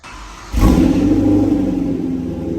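A BMW M3 E90/E92 engine with a new exhaust and Valvetronic midpipes cranks and fires up, settling into a loud, steady deep idle rumble.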